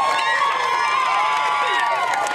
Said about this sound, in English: Outside the Phoenix courthouse, the crowd erupted as word spread the state's most notorious defendant is now officially a convicted killer.